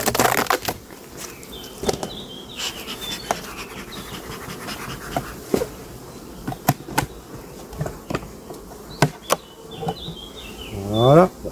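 A colony of bees buzzes as a beehive is opened, with insect hum and individual buzzes flying close by, mixed with scraping, knocks and clicks of hive parts being handled.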